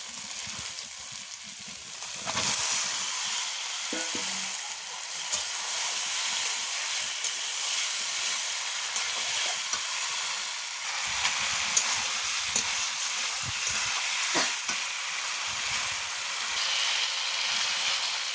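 Pigeon meat fries in spice masala with a loud, steady sizzle and hiss, broken by occasional knocks and scrapes of stirring, close up and free of talk.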